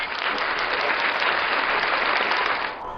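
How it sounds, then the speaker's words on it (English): A studio audience at a talk show session applauds its guest Rich Rockwell, with dense, loud, sustained clapping that carries evenly for a few seconds before tapering slightly at the end. "Let's give Rich another round of applause."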